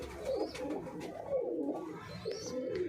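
Pigeons kept for flying competitions coo in a loft, soft repeated throaty rolling coos from a few birds close by, with no talk.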